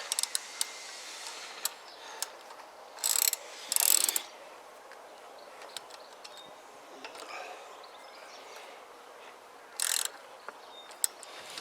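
Ratchet wrench nipping up brake bolts on a CPI SUV125 scooter, scattered sharp clicks and a few short bursts of rapid ratcheting, close and fairly loud against a quiet workshop background.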